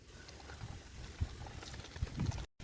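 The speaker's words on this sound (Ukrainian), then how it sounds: "змиваємо то все звичайною водою" Car wheel rims being rinsed with plain water after a hand-wash shampoo scrub, a steady close splashing and trickling wash with a few louder spatters and a brief drop-out near the end.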